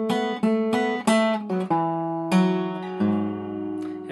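An acoustic guitar slowly plays measure 32 of a song, with a handful of distinct plucked notes and short chord stabs, close and clear, ending on a longer ringing tone.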